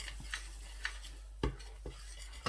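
A spoon scrapes and knocks against a kadai as moong dal powder is stirred with ghee, giving a few sparse metallic taps and scrapes over a quiet low hum.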